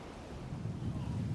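Storm waves churned up by a nor'easter make a continuous low roar and rumble with a windy hiss over the microphone, steady and moderately loud.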